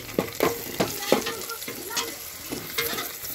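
Onions and whole green chillies sizzle in hot oil while a spoon scrapes and stirs them in quick, repeated strokes, close and lively, with no voices.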